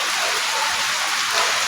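Steady rain falls in a dense, even hiss of drops on surfaces, close and loud for the whole moment, with no voices.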